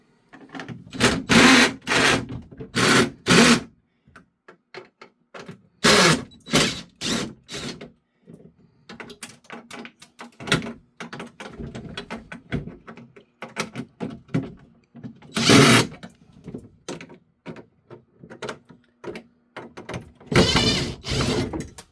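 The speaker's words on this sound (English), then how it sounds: "just take these screws out" Screws are backed out of an ice maker door with a driver and bit extender, giving repeated loud bursts of whirring and rattling metal separated by quiet pauses, close up.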